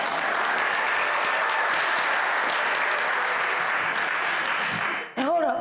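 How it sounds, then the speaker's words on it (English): An audience at a Martin Luther King Jr. commemoration service applauds loudly and continuously for several seconds before the clapping drops off and a voice begins speaking. "Give yourselves a round of applause."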